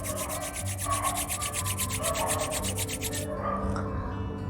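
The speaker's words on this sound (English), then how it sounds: "rub your both palms" Palms rubbing briskly together during a yoga routine for migraine relief, a steady dry rasping swish in quick even strokes, close and fairly quiet, stopping near the end.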